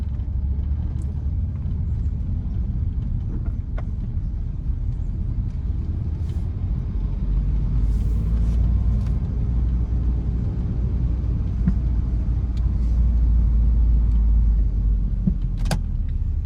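A car drives through a residential neighborhood in Ellerbe Woods, Shreveport, Louisiana, with a steady low road rumble and engine hum running throughout and a few faint rattles inside the cabin.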